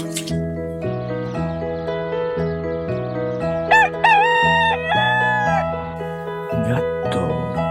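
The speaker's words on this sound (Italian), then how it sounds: "Gallo." Rooster crowing in a farm-animal song, a drawn-out cock-a-doodle-doo rising over steady bouncy children's music with a rhythmic bass line.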